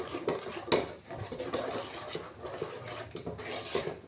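Soft scraping and clinking of a spoon stirring masala-coated chicken with salt in a pan for green masala chicken curry, faint and close with light metallic taps and rubbing.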